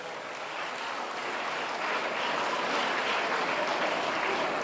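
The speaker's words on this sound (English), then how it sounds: "all the children should rise up and clap for Her Excellency" Children applaud together at a national launch event in Gombe, a steady, sustained patter of clapping from a crowd that swells slightly and holds, heard at a moderate distance with no talking over it.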